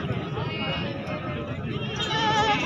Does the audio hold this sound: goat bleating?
yes